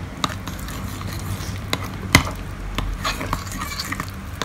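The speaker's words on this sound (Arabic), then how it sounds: "هقلبها كويس جدا" A spoon stirring a thick homemade hair mask with flaxseed oil in a bowl, giving soft scraping and occasional clinks against the bowl at an irregular pace, close and fairly loud with no talking.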